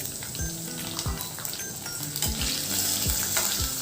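A large onion sliced lengthwise frying in oil in a pan for Maharashtrian chicken rassa; steady close sizzling with occasional stirring scrapes and low thuds of a spoon.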